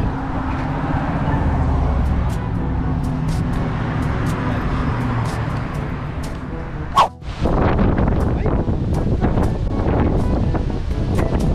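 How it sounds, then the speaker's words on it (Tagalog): Wind gusts outdoors on a windy, rainy day, a rough, rumbling roar buffeting the microphone, broken by a brief dropout partway through before the buffeting resumes just as strongly. "Weather is not good. Kind of windy and rainy as well."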